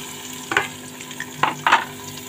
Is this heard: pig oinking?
no